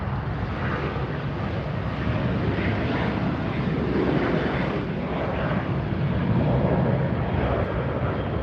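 An airliner takes off from a runway at LAX at sunset, producing a loud, broad, steady engine roar with some wind buffeting that swells slightly as it climbs away.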